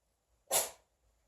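A single short, sharp sneeze from a dog, a quick airy burst in otherwise near silence.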